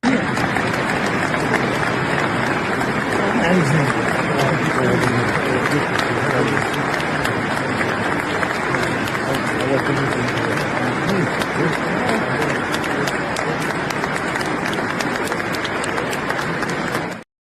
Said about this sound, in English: He actually entered to a round of applause.